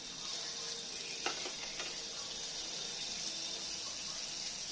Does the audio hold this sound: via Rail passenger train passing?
no